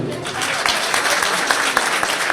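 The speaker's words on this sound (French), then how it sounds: "Applaudissez pour lui s'il vous plaît" Audience applause at an inaugural ceremony for a new headquarters in Luanda, steady dense clapping from a crowd throughout, loud and continuous with a speaker's voice faintly mixed in.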